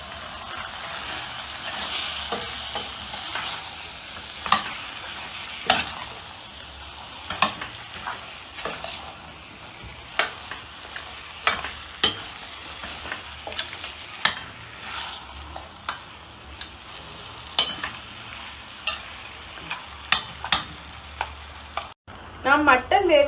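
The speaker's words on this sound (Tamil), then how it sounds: "மசாலா எல்லா இடத்துலையும் பிடிக்கிறது போல நம்ம மிக்ஸ் பண்ணி கொடுப்போம்." Mutton being stirred with masala in a heavy-bottomed pot for ghee rice gravy, a steady sizzle under repeated scraping clicks and knocks of the spoon against the pot, up close with no talk.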